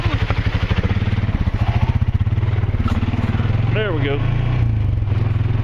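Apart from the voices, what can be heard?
ATV four-wheeler engine riding on a trail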